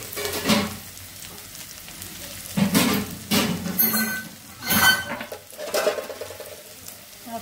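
Oil sizzles in a pan where fish has been frying; onions and green chilies are then added. Loud bursts of frying come and go with stirring and clinks of a utensil.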